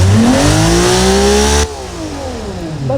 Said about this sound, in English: The engine is now more smooth. Of course, it's louder than before.